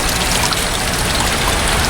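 Liquid from plastics wastewater sludge being forced through the screen of a press, a loud, continuous rushing pour with no pauses, close and steady.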